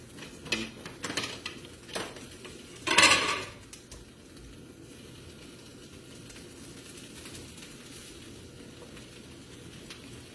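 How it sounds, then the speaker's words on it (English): A three-cheese grilled sandwich sizzles steadily and softly in a pan, with a few clinks and scrapes of utensils near the start. "You hear them sizzling."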